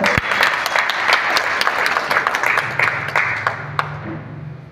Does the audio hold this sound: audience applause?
yes